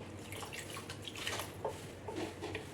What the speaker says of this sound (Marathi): पहा, अजून थोडंसं पाणी मी यामध्ये ॲड करते